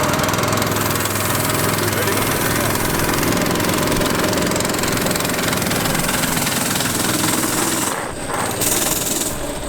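Outboard motor running loud and steady on a homemade amphibious go kart out on the water, a continuous close engine drone with one brief dip near the end.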